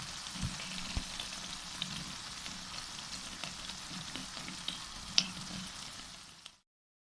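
Chicken pieces sizzling steadily in a pan with yogurt stirred in, a continuous close frying hiss with occasional soft pops and scrapes, no voices.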